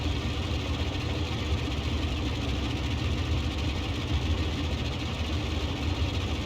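Twin radial engines of a Boeing 247D airliner idling on the ground in Microsoft Flight Simulator, a steady low droning rumble that holds even and unbroken throughout, with no other sounds.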